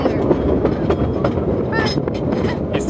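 A train ride heard from on board, with loud steady rumble and rattle of the railcar rolling along the track and faint voices now and then in the background.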